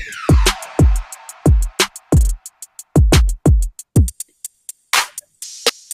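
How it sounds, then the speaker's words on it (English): Drum loops from a sample pack in FL Studio, with punchy kicks and snares in a steady beat pattern, crisp hi-hats and a swept high noise riser, loud and dry with no voices. "We have also some drum loops like this"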